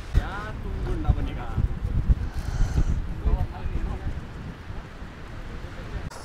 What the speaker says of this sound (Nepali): जाडो त यस्तो हावा चलिरहेको छ